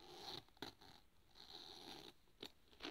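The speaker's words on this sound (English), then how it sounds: "Did you hear that zip sound?" Zipper on a Louis Vuitton Avenue Sling Bag pocket, drawn in several short, quiet zipping strokes with brief pauses between them, close and alone.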